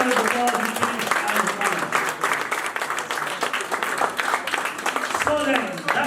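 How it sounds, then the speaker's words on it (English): Audience applause for quiz teams at a banking quiz semi-final, steady clapping filling the whole stretch with cheering voices and chatter mixed through it. "So, give them a huge round of applause"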